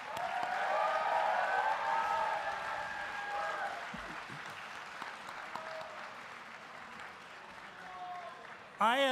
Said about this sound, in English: Let's give everybody another big round of applause.